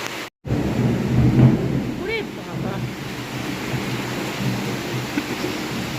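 Rain pours steadily with gusting wind and a low rumble of thunder during a morning downpour, a broad, continuous wash of sound with a brief dropout near the start.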